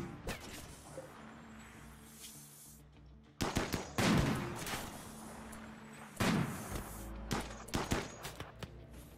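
Gunfire in the RimWorld video game, bursts of rapid shots in two loud clusters amid scattered quieter pops, heard without talking.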